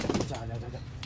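Pigeons cooing low and soft inside a new breeding loft, a few close murmuring coos with a faint background hum.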